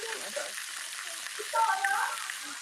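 Smoked pork chops sizzle and fry in a pan, a steady close crackle with a brief stirring scrape partway through, while a voice talks quietly underneath.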